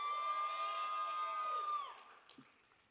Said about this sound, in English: yes, cheer for CIRC